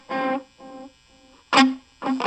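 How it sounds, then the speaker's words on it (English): A guitar played through a Loog mini amp with an echo delay effect switched on: harmonic notes sound in separate bursts, the softer second burst like a repeat of the first, then two more loud strummed bursts follow. "So you get that nice echo effect."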